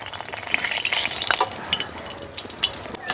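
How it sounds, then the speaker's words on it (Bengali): Dried red chillies fry in hot oil with a bright, crackling sizzle up close, dotted with sharp popping spits and stirring over a short stretch. "ভেজে নেব কয়েকটা শুকনো লঙ্কা।"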